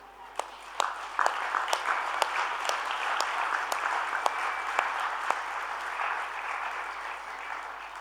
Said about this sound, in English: Therefore, may I request you to clap